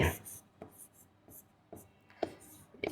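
Letters being written on paper while drawing a geometry square: a handful of short, quiet scratchy strokes separated by brief pauses, close by, with no talking.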